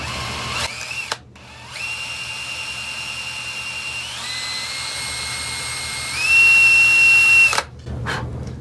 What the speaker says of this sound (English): This is a little bit tricky drilling on a radius too.